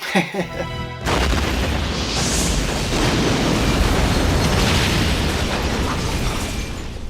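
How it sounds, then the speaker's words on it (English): A gas station explosion from the Dukes of Hazzard, a massive roaring blast that erupts suddenly after a second of other sound and then rumbles on loudly and steadily, like burning debris. "The agents shoot him dead, then blow the gas station up, destroying everything, including Cooter's tow truck."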